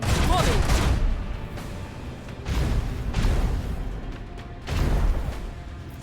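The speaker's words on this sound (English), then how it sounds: "Electro cannons, volley!" A volley of electro cannons fires during a space battle in the video game Warhammer 40K: Rogue Trader, with repeated heavy booming blasts in bursts, each rolling off into a rumbling decay, while a voice speaks over the gunfire.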